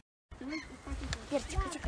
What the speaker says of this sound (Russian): чайка. Чайка.